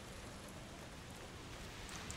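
Steady rainfall in the video game A Plague Tale Requiem, a soft, even hiss of drops with no pauses, quiet and constant throughout.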